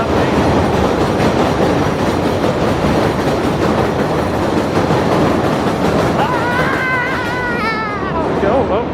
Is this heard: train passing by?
yes